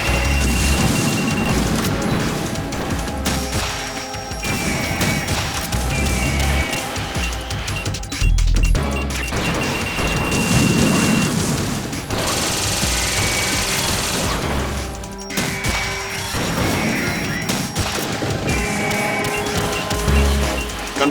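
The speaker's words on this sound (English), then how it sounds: "Enough with the missiles." Repeated missile explosions and crashing impacts pound through a Metal Gear Solid 2 battle, loud and close, layered with rapid gunfire and metallic clatter against a busy game soundtrack.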